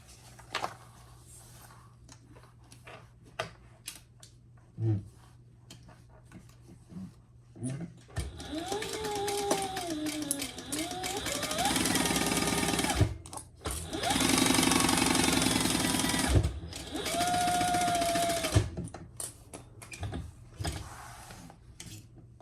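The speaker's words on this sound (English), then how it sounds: "And sew that together." Sewing machine joining fabric pouch pieces, starting with scattered handling clicks, then running in a long steady burst and a second burst with brief stops, close and moderately loud.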